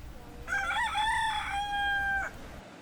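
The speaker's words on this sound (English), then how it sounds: "this rooster was crowing way past sunrise" A single rooster crows once in Key West, Florida, a clear drawn-out cock-a-doodle-doo, moderately close over quiet background noise.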